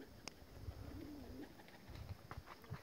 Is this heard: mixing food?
no